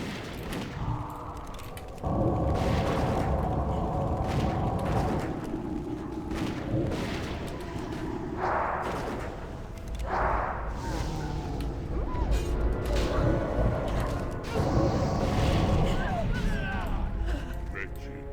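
Bomb blasts in the Blood Furnace dungeon of WoW Classic, Hellfire Citadel: booming, gunfire-like explosions burst repeatedly over a dense, continuous bed of game combat noise, fairly loud throughout.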